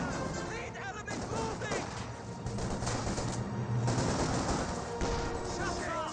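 Rapid gunfire and bursts from the Company of Heroes 2 strategy game fill the whole stretch as a dense, continuous battle din, with a commentator talking over it.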